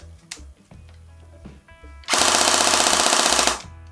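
After some quiet clicks and handling noises, a Well R4 MP7-style electric airsoft gun fires one loud, fast rattling burst lasting about a second and a half.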